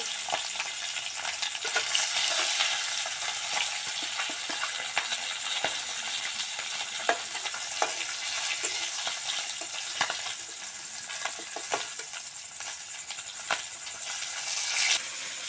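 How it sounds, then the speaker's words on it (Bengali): Rohu fish pieces frying in hot oil in a home kitchen, a steady loud sizzle with frequent crackles and pops and occasional clinks of a utensil, close by and continuous, with no talk. "আমি সমস্ত মাছ ভেজে নামিয়ে নিয়েছি"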